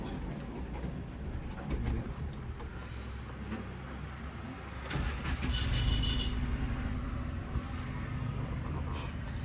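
Car being driven slowly during a beginner's driving lesson, pulling out of a home porch, heard from inside as a steady low engine and road rumble that swells midway, with faint voices in the background.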